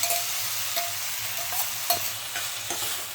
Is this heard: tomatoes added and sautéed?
yes